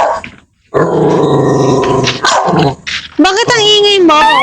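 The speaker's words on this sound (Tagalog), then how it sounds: "Meron din aso." A dog growls and barks in rough bursts close by, with a person talking over it and a short silent gap near the start.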